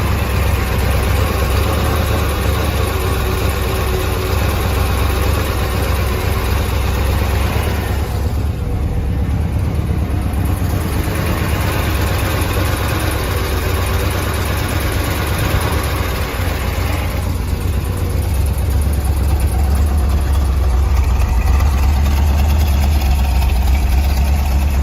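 A 1966 Chevrolet Corvette 427 L36 V8 convertible, frame-off restored, idles in a steady low rumble, close and continuous throughout with no talk.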